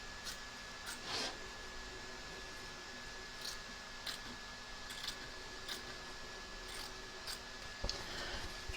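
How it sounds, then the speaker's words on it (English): Scissors snip away excess batting around an embroidered stitch line during machine embroidery work, a series of quiet, crisp cuts at irregular intervals over a faint, steady machine hum, close and soft, with no talking. "Trim away the excess batting from around the edge of the stitch line"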